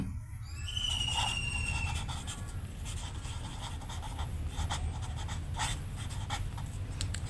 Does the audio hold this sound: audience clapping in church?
no